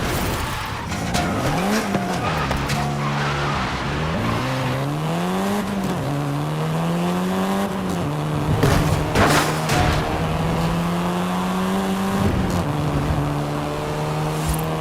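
A 7th-generation Volkswagen Golf R driven in Forza Horizon 5, engine revving loudly and rising and falling through gear changes, with bursts of tire squeal and skidding throughout.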